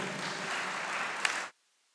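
Graduates at a college valedictory service applaud themselves, a full, even burst of crowd clapping that cuts off abruptly into silence partway through.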